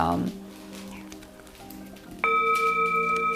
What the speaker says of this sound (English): the resonance of the gong also is so delicious